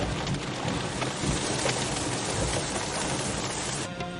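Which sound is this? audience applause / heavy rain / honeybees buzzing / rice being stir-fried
heavy rain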